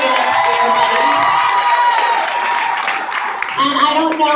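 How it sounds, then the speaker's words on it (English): A school audience claps and cheers loudly for a departing staff member at a ceremony, sustained applause with whoops and shouting from adults and children throughout. "give her a round of applause"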